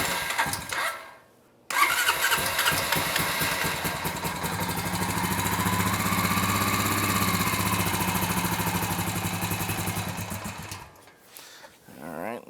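A Honda TRX350 Rancher ATV engine, just fitted with a rebuilt carburetor, cranks over, catches and settles into a steady, close idle that runs for about nine seconds before cutting off.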